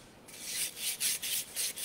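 Sandpaper gently roughening the surface of a terracotta pot, several short rhythmic back-and-forth scratchy strokes, close and fairly quiet.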